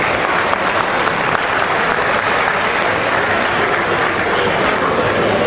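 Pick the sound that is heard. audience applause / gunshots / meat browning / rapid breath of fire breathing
audience applause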